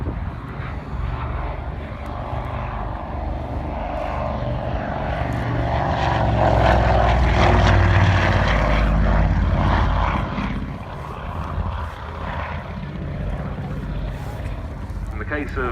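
An Avro Anson, a twin-propeller wartime training aircraft, drones past at an air show at RAF Scampton, its engine roar swelling to a peak midway and then fading, with someone talking over it throughout.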